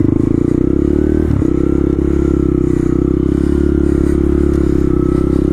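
Honda Grom motorcycle in a snowstorm, its engine holding a loud, steady, close buzzing idle as the bike is dragged and spun through snow, with a brief scrape partway through.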